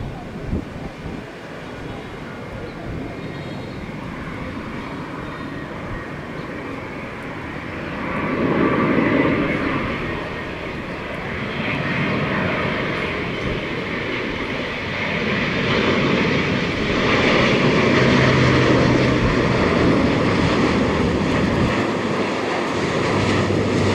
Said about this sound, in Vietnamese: chiếc Airbus A350-900 của hãng không China Southern Airlines cũng đang bước vào hạ cánh